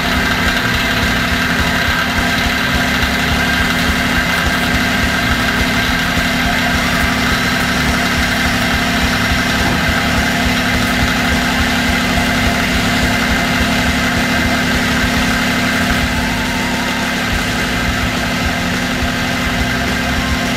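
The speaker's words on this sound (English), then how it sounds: "After the engine is started and while it is running" An engine idles steadily and loudly at close range, a constant low hum with a continuous vibrating drone and no voices.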